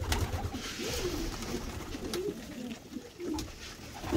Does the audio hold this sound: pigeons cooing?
yes